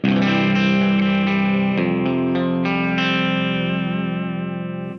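A heavily distorted electric guitar in low C standard tuning plays sustained chords washed in echoing delay from a Fender HammerTone Space Delay, the notes wavering and slowly fading over several seconds.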